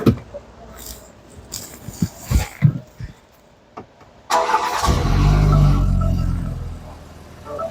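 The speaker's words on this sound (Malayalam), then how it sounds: "നമുക്ക് ജസ്റ്റ് ഈ വാഹനം ഒന്ന് സ്റ്റാർട്ട് ചെയ്ത് നോക്കാം എങ്ങനെയുണ്ട് സൗണ്ട് എന്നുള്ളത്" A BMW X4 sport activity coupe's engine cranks and catches after a few quiet clicks, then settles into a loud, steady idle close by with no voices.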